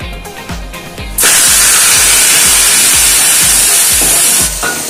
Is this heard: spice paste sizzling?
yes